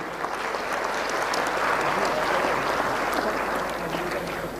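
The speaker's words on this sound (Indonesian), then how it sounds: "Berikan aplaus untuk semuanya dulu" An audience applauds at a university lecture by Ustadz Adi Hidayat, with sustained, dense clapping from a large crowd that stays steady throughout.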